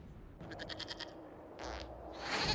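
A goat in Dragon Age Inquisition bleats in a quick rapid series of wavering calls, then a second shorter bleat follows, with rising game ambience at the end.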